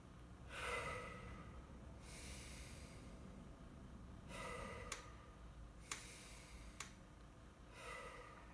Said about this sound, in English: So here I am doing chest breathing.